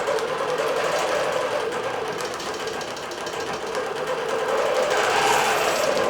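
A Bernina embroidery machine stitches a floral design with a continuous fast mechanical whir and rapid needle chatter, close and steady throughout.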